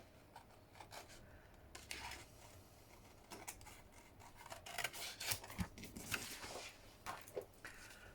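Scissors snip around the outside edge of a purple ephemera card for junk journaling, giving quiet, irregular cuts and paper rustles close by with short pauses between strokes.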